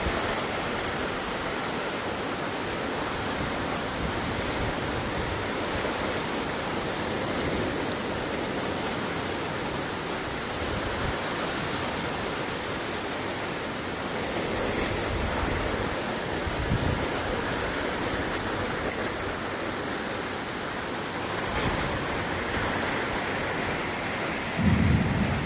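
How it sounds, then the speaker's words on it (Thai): Heavy rain pours down in a dense steady roar, with low rumbles of thunder rolling underneath, loud and continuous for the whole stretch and with no voices. "ฝนตกหนักนะครับ"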